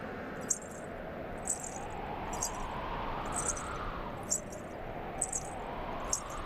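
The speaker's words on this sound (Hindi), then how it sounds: "ये किसके पायल की ध्वनि है?" Anklet bells jingle in soft, regularly spaced bursts, about seven across the stretch, over a steady wash of background noise in a devotional drama scene.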